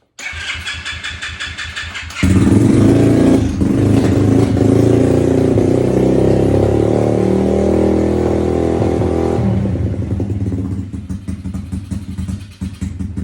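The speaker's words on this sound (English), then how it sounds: "We're going to give it a little bit of gas, let you guys listen to it" A motorcycle engine started on choke fires up after a brief crank and then holds a loud, steady, rough rev for several seconds before easing back toward idle.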